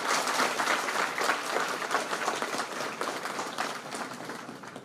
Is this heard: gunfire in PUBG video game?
no